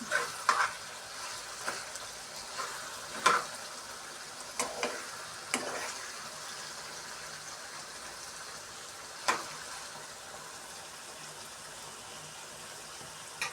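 Cucumber and dried fish curry simmering in a pan gives a soft, steady sizzle with a few sharper clicks and scrapes of stirring early on, fairly quiet and with no talk.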